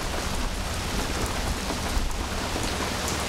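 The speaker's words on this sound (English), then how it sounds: "It's pouring rain, end of May, South Turkey, very weird." Heavy rain pours steadily in southern Turkey in late May, a dense continuous hiss of drops hitting surfaces close by, with no voices.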